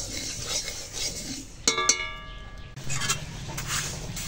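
A spoon scrapes and stirs dal (lentils) in a cooking pot with soft continuous scraping, broken by a sharp metallic clink and ringing tone partway through, then more stirring.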